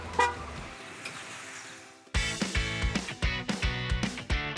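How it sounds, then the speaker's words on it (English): A rubbish truck arrives with a muffled engine that is quickly joined by loud, repeated rhythmic horn honks close by. "Look, here comes a rubbish truck now"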